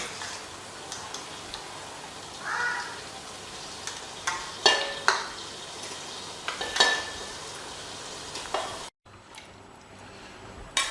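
Marinated mutton is stirred into fried onion masala in a pot, giving scattered scraping clinks and a soft frying sizzle, with a brief break near the end.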